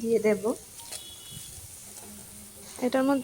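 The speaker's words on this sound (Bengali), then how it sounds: "আর এখানে দেখো এগুলি মোটামুটি ভাজা হয়ে আসছে" Food frying in a pan, a soft, steady sizzle in the background while someone talks at the start and end.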